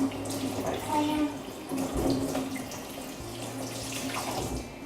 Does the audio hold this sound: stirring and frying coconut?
no